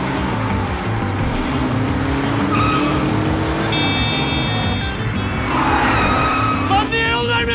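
A car driven hard on the road, engine roaring steadily throughout with brief tire squeal, while several people shout and argue loudly over it.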